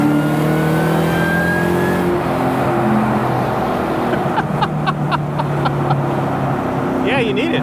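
A supercharged 2003 Ford Cobra accelerating hard through the gears, a loud steady engine roar with a thin rising whine and squeal on top, and brief talk inside the car.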